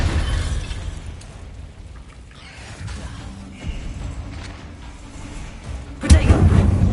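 Bombarda spell explosion in the Hogwarts Legacy video game, a sudden loud blast with a shattering burst near the end, over rumbling game noise and a speaking voice.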